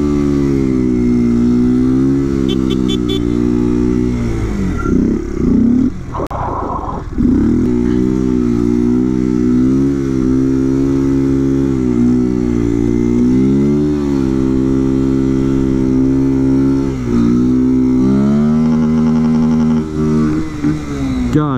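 A motorcycle engine runs steadily and close, its low rumble rising and falling through a couple of revs, with a brief dip partway through.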